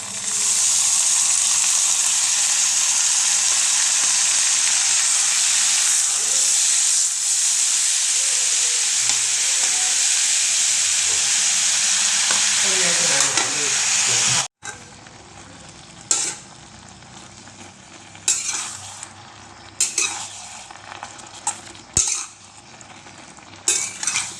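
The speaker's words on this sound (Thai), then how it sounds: "ผัดให้เหลืองนะะ ใส่เห็ดลงไปเลยนะคะ" Mushrooms stir-frying in a pan for a spicy Thai stir-fry, with a loud steady sizzle and scraping of a utensil for about fifteen seconds, then quieter intermittent stirring clatter.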